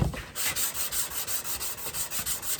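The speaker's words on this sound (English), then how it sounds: "So I'll go ahead and get the whole panel sanded down." Steady back-and-forth sanding strokes scrub across primer on a car body panel during blocking and paint prep, a rhythmic rasping swish repeating about every quarter second, close and alone with no talk.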